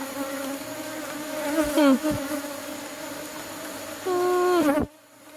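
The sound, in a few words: Africanized honey bees buzzing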